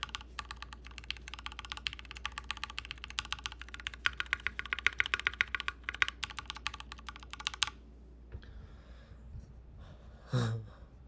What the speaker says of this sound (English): Those sound really nice. I want this more for the typing feel.